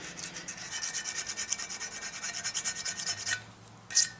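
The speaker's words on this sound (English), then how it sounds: "Get all that old RTV off. Razor blade makes quick work of it." Razor blade scraping old RTV sealant off a metal differential housing from a GM 10-bolt rear end, rapid rhythmic back-and-forth strokes, fairly close and quiet, ending with a couple of separate scrapes.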